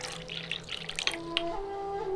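Water trickles and drips in a video game as tea is brewed, a thin steady pour with light splashy detail that settles into a sustained tonal stream toward the end.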